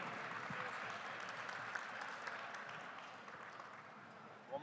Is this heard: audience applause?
yes